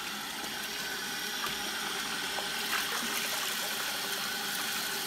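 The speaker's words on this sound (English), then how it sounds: "my water is on way too high" A bath tap runs hard into a tub, giving a steady rushing, splashing stream that stays constant and close throughout, with no speech.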